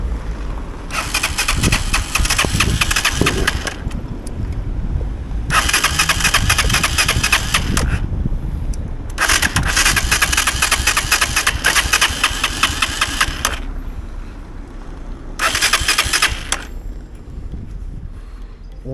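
A motorcycle engine cranks in four long bursts, each a loud rasping churn that fails to catch, with short pauses between attempts. The bike has stalled by the roadside, apparently out of fuel, and there is no talk over it.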